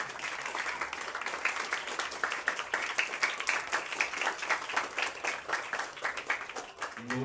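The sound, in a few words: audience applause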